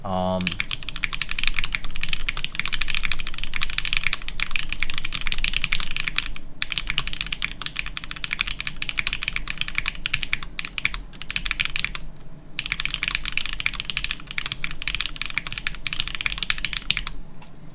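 Continuous fast typing on a custom plateless mechanical keyboard fitted with DCS keycaps, a steady close-up patter of keystrokes running nearly the whole time with two brief pauses, no voices.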